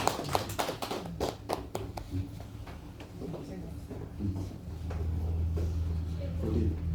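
A room full of people clapping in steady applause at a church service, the claps dense and overlapping, with voices murmuring underneath as it carries on.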